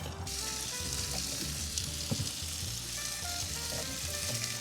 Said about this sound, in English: Once it's all sliced up, just get that into the pan and cooking down.